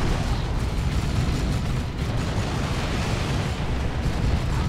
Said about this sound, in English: What was that explosion? Was that? Oh, stick bombs, probably.